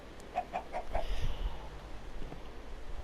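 A chicken in the Minecraft video game gives four quick, evenly spaced clucks near the start, followed by a low muffled rumble and faint background noise.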